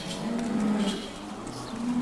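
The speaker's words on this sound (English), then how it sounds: "Here's the cows coming for milking." A herd of cattle on a farm heads in for milking, with several low moos that rise and fade over a steady outdoor background, fairly close.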